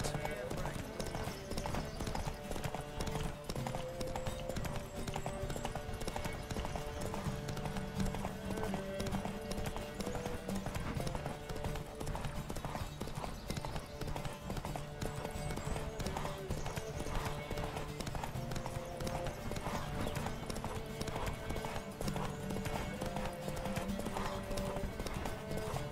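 Horse hooves gallop in a fast, continuous drumming rhythm during a race in the Dead by Daylight video game, loud and constant for the whole stretch, mixed with music and game sounds.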